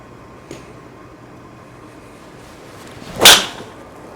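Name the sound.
golf driver hitting a ball at a night driving range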